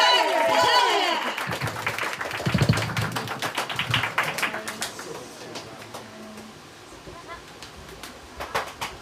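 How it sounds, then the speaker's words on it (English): A live audience cheers and claps for a funk band after a set, a loud burst of applause and whoops that gradually thins into scattered clapping, with voices shouting over it. "Let's give it up, everybody. Like, round of applause."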